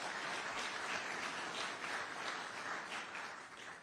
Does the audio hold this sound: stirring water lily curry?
no